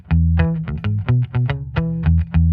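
Electric bass played through a Stellartone Vari ToneStyler in varitone mode on setting 5, giving a thinner doubling tone; a run of plucked notes, each with a firm attack and short decay, loud and alone.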